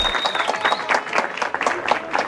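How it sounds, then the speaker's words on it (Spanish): A studio audience claps and cheers on the Spanish-language TV game show Lo Sabe / No lo sabe, with a dense burst of uneven clapping and crowd noise throughout. "¡Aplauso, por favor!"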